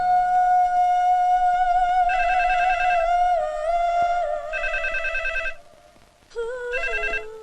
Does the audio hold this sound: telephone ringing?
yes